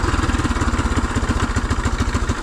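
1975 Honda XL250 motorcycle engine running up close with a loose chain, a loud, even, rapid thumping putter with a faint metallic clatter over it.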